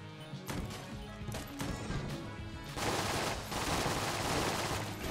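Rapid bursts of gunfire from the Razor gun in the video game Enter the Gungeon, sharp repeated shots clustered into short volleys, then a denser, louder barrage with crashing impacts, no talk in the clip.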